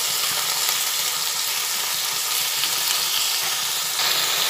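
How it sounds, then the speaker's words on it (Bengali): Sliced flat beans (sim) cooking as a curry in a pan hiss with a continuous close sizzle, while a spatula stirs them with light scraping now and then. "এবার একটু নাড়াচাড়া করে নিই"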